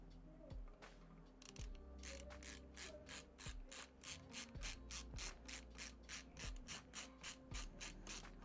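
A screwdriver turns a tiny screw while an SSD is installed in a PC build, making rapid, rhythmic ratcheting clicks in quick repeated bursts, close and fairly faint, with no speech.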